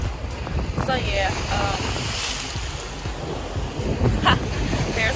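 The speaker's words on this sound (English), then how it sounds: "you can really hear the water" Water waves wash steadily against shoreline rocks close by, a continuous rushing surge with wind buffeting the microphone and a faint voice briefly audible underneath.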